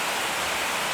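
A waterfall roars in a dense, steady rush of falling water, loud and close, with no break and no voices.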